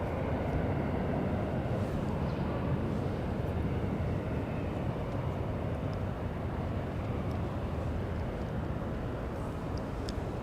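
A departing Boeing 767 airliner bound for JFK roars as a steady, broadband jet rumble at an airport, distant but sustained throughout with no clear rise or fall and no voices.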